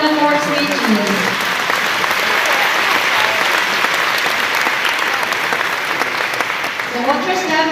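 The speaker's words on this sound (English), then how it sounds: "Let's give them the biggest round of applause once again for the wonderful speeches." Sustained audience applause fills a formal European Day dinner hall after speeches, dense and steady throughout, with brief voices at the start and end.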